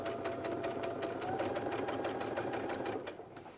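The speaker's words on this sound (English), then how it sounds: "I'm happy that I'm actually sewing finally." Domestic sewing machine running a steady straight stitch while quilt pieces are joined, a continuous fast whirring hum with a regular mechanical chatter that holds level for about three seconds, then fades.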